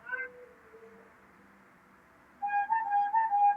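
Street vendor in the Philippines calling out puto rice cakes, a faint drawn-out sung call followed by a louder, clearer repeated melodic cry, heard from some distance in quiet surroundings.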